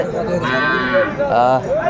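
A Sahiwal bull calf moos loudly twice, close by, two long drawn-out lowing calls with a short gap between them, at a cattle market.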